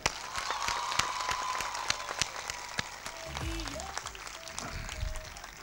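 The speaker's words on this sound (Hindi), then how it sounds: "तमाम एक तालियां बजाएं इनके लिए।" An audience at a Lodhran gathering about a girls' education foundation applauds, a steady patter of many hands with a few louder claps, and brief voices and tonal noise in the background.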